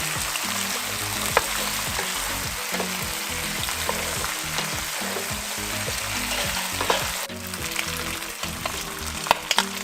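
Pork sizzles and spits steadily in a hot pan while being stirred and sautéed, with the frying hiss continuous and close throughout and occasional scrapes from the stirring.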